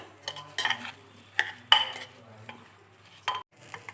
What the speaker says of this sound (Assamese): মই চাউলখিনি ভালদৰে ভাজি ল'ম